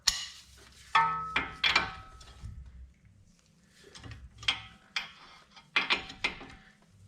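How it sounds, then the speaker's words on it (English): A 21mm socket on a 2-foot breaker bar loosens the front strut bolts on a 2012 Nissan Sentra, giving a series of sharp metallic ratcheting clicks in short, uneven bursts with pauses between. "So what I used was a 21mm socket and a 2-foot breaker bar."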